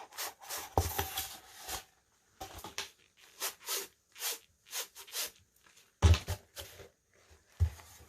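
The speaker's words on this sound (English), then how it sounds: "I'm just going to rub some of that paint down those edges." Paint being rubbed along the edges of a wood board, likely with a sponge: a series of short, close scraping strokes in an uneven rhythm, separated by quiet gaps, a couple of sharper knocks, no voices.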